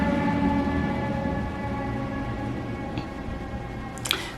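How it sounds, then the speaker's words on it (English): An ambulance siren wails on a New York street, a sustained loud tonal blare with steady harmonics that slowly eases as it passes, with a few brief clatters near the end. "Let's wait till the ambulance passes."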